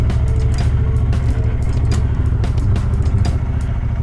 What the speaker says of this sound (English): Wow, did not expect it to start that quick. I let it cold start for a while.